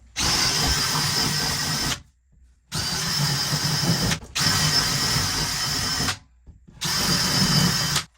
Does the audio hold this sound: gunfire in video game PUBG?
no